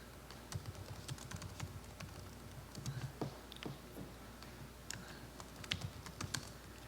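A computer keyboard is typed on at a public planning commission meeting, with irregular bursts of fairly quiet keystrokes and short pauses, heard alone against faint room hum.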